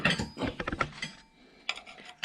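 A wrench clicks and clanks against metal parts of a 1 HP IHC Mogul engine under restoration, a quick close cluster of ratcheting taps and scrapes, then a pause and a couple more clinks.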